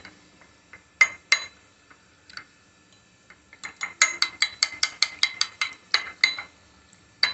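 A spoon stirs cornflour in a small bowl for soup, its rim clinking sharply at first in sparse single taps, then in a quick rhythmic run of close, bright ticks.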